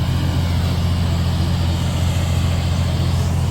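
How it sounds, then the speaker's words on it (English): A tow truck idling at the roadside, its engine giving a steady, close, loud low rumble that holds unchanged throughout, with no talk. "Tow truck here."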